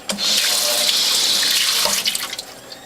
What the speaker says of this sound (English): Next to the last step is to scrub off all the pulp on the cloths